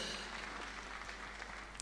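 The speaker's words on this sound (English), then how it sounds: "Round of applause" An audience claps a round of applause at a community gathering: a steady, moderately soft patter of many hands throughout, heard over a low electrical hum with no talking.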